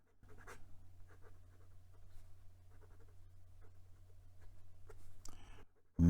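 Nib of a Moonman C3 fountain pen scratching across Clairefontaine 90 GSM paper, soft close strokes in an irregular rhythm over a faint low hum, ending with a brief clatter.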